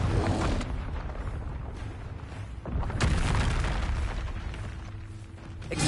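A Confringo spell explosion in the video game Hogwarts Legacy lands as a loud, booming blast with a rumbling tail, followed by another heavy burst after a brief dip, all close and dominant with no voices.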